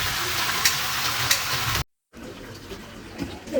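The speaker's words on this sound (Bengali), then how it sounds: "এখন দিব শুকনো মরিচ, জিরা, আদা বাটা," Dried chili, cumin and ginger paste frying in a hot pan, heard as a close, hissing sizzle with a few sharp pops, broken by a short moment of silence before the sizzling resumes.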